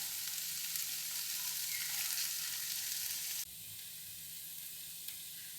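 Masala egg fry sizzles steadily in a pan, a soft continuous hiss that drops a little in level partway through, with no voices.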